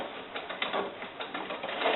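A sewing machine stitches quilting at slow speed with a steady, soft mechanical whir and faint rhythmic clicking, close by and alone.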